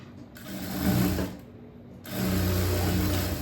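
Sewing machine stitching the shoulder seam of a blouse, running in two steady mechanical bursts with a brief pause between, close and clear with no voices.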